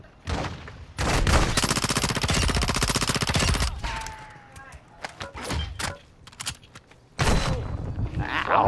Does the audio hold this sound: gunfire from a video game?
yes